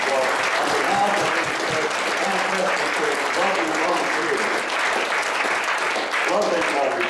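A church congregation claps steadily for volunteers, dense sustained applause filling the room from start to finish, with voices faintly mixed in.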